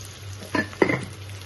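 Okra sautés with salt in coconut oil, a faint, low sizzle close by broken by two soft stirring scrapes in the pan.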